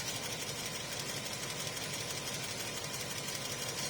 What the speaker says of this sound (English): flywheel spinning